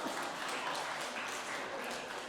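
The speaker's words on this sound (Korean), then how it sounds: "여러분은 박수를 치시는데" A congregation claps briefly during a Korean church sermon, a short, dense burst of many hands at moderate, even volume.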